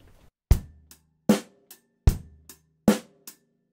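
A drum groove played with a closed hi-hat: a steady, close-miked pattern of strong hits alternating evenly with lighter ones, about four beats in under four seconds, with no talking.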